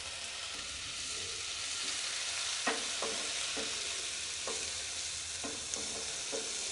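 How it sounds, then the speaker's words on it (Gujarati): Onions and tomatoes sauté in a kadai over a low flame, giving a soft, even sizzle with light scraping and stirring knocks now and then, close and without speech. "ગેસની ફ્લેમ એકદમ ધીમી કરી દઈશું અને ડુંગળી ટમેટા સંતળાય ત્યાં સુધીમાં"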